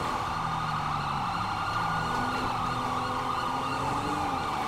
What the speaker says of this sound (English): There's millions of sirens going off.